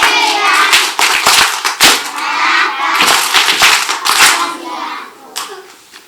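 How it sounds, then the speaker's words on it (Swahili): A group of schoolchildren applauds together, a loud burst of rapid, dense clapping that comes in uneven waves and fades out near the end. "Pigie makofi."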